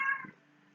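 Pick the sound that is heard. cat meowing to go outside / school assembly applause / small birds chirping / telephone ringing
cat meowing to go outside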